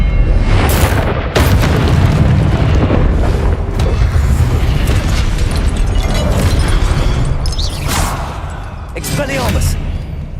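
A spell is cast in Hogwarts Legacy, a video game, with loud booming blasts and crackling bursts over dense game effects, while a voice talks over the action.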